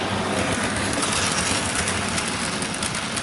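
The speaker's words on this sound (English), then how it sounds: "this locomotive is running a bit faster, but still." A model N-Class locomotive running fairly fast on track, hauling a Wrenn six-wheeled milk tanker, makes a steady, close, continuous mechanical whir and rumble throughout, with no talking.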